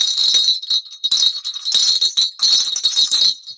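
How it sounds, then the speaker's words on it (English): A very loud jingle bell shaken hard, with bright, metallic rattling in repeated bursts for several seconds, close and with no voices. "A little more of the loudest jingle bell known to man."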